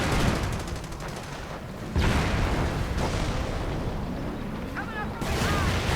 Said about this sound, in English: More Nebelwerfer fire, raking the base.